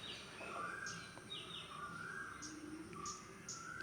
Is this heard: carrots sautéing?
no